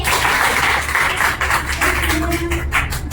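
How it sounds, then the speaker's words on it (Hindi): Audience clapping in welcome for a guest speaker at a children's storytelling session, a steady broadband patter of many hands filling the whole stretch with no talk over it. "तालियों से।"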